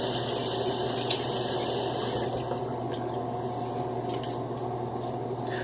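Water splashes and squishes as a head is wetted by hand before a shave, a close, continuous wet rubbing with faint gushes and no voices.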